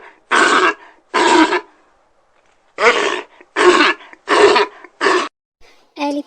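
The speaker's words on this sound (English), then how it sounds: "Lion. This is lion." A lion gives a series of six short, forceful grunting roars in an uneven rhythm, each a harsh burst separated by brief pauses, close and loud.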